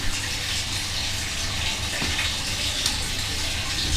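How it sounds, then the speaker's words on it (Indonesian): Steady broadband rush of running water, continuous and fairly close, like a tap filling a bath with splashing, no voices. "ada suara air mengalir dan gejebur-gejebur"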